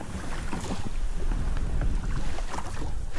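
Strong wind buffeting the microphone over open water, with low rumbling gusts and faint water sloshing around a small fishing boat.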